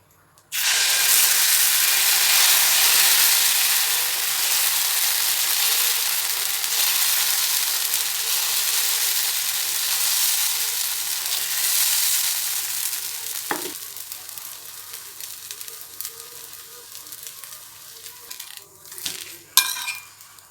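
Millet dosa batter of white sorghum, green gram and a little rice hits a hot pan with a loud, abrupt sizzle that slowly fades, followed by a few light utensil clinks near the end.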